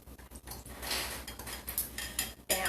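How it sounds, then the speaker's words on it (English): A spoon stirs a thickening slurry in a pot of homemade turkey soup, giving steady scraping and clinking against the pot's sides and bottom, close and fairly busy, with no talking. "Go ahead and stir my slurry."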